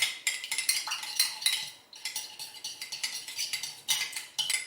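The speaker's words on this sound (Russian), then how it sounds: "Все хорошенько перемешиваю." A spoon clinks and scrapes against a bowl while sweet paprika and water are stirred into an egg-free yeast dough mixture for buns, with quick repeated strokes and close, clear clatter and no talking.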